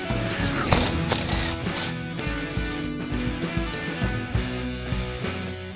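A ratchet wrench works on the manifold of a Briggs & Stratton V-Twin Intek engine, giving rapid metallic clicking in bursts with clanks of tool against metal, close and fairly loud.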